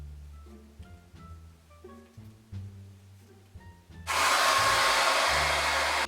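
A hair dryer at full heat kicks on partway through and then blows with a loud, steady, broadband rush. Before it starts, quieter music plays alone.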